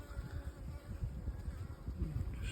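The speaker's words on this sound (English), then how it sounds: "As you see, there's plenty of bees there." Native European black bees (Apis mellifera mellifera) buzzing softly and continuously in an opened beehive during an inspection, a low, close droning hum with no speech.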